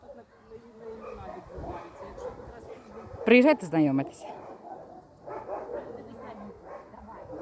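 Large shelter dog in a Kyiv-region animal shelter gives a sharp burst of high yelping barks and whimpers in the middle, while people talk nearby before and after.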